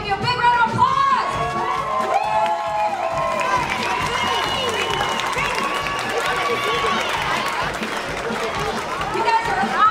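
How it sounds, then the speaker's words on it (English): Audience applause and cheering at a story event, a loud crowd clapping and whooping with children's shouts and chatter mixed in, steady and energetic throughout. "you need to stand up so we can give you a big round of applause"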